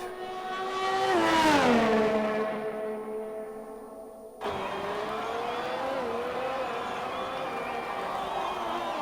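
A GP2 race car at the United States Grand Prix screams past with a rising then falling high-pitched engine note, followed by more open-throttle engine whine down the straight, with a commentator talking over it.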